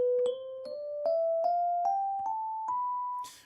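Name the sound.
Locrian mode scale played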